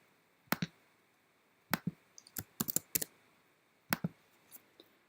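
Keys on a computer keyboard are typed and a mouse clicks in short separate bursts, crisp and close in a quiet room, with a few sharp clusters of keystrokes between pauses.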